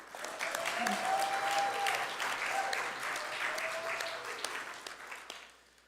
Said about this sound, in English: Can I get another round of applause for the Sunshine MC?